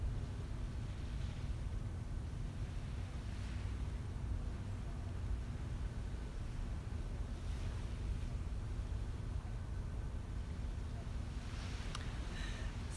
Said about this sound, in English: Elizabeth, I'm so glad you're enjoying the sound of the waves with me.